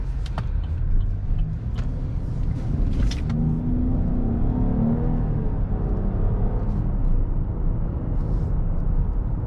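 A 2021 Chevy Blazer 3LT with a 3.6 liter V6 driving on a main road, heard from inside as a low steady rumble and road roar with the engine note rising as it accelerates.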